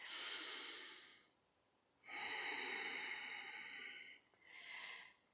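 Deep, slow breaths during a yoga session, heard close and soft: a long exhale, a pause, then a sustained breath and a shorter final one, with no talking.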